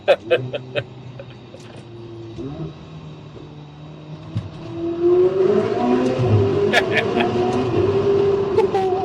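A car drives into a tunnel, its engine rising from a low steady hum to a louder, reverberant rumble partway through, with people talking over it in the cabin.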